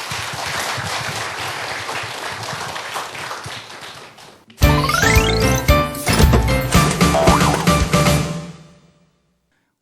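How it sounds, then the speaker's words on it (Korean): An audience at a health lecture on colorectal cancer applauds to welcome the speaker, with a dense burst of clapping for about four seconds before bright jingling music takes over. "여러분 박수로 청해 드릴까요?"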